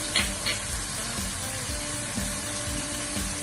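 Cumin powder and garlic paste sizzle steadily in a pan while a cheese pasta sauce is being made, a soft continuous hiss with a few light stirring clicks near the start.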